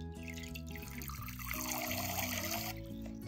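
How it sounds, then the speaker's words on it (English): A squirting bath toy shaped like a Squirtle from a McDonald's Happy Meal, its tail pulled up to pump out water, giving a steady trickling, splashing stream that runs close and fairly quiet through the whole stretch with no talk. "It's a water squirtle."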